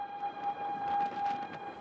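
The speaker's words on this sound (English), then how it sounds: "At Chesil Beach in Dorset, the extremely rare sound of a siren." A storm warning siren wails at Chesil Beach, Dorset, a steady sustained tone heard fairly faint and distant over a low rush of wind and surf.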